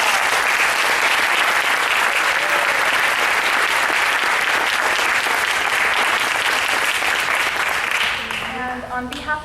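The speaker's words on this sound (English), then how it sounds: "So please let's hear it for them. Another round of applause." An audience at an Eagle Scout Court of Honor applauds new Eagle Scouts with loud, dense, sustained clapping that fades near the end as a voice begins to speak.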